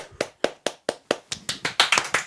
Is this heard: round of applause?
yes